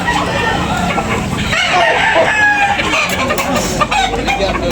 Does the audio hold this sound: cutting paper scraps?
no